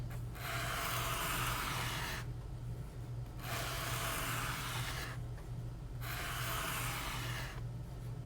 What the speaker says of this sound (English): I'm going to use that to start the first step of the sanding process.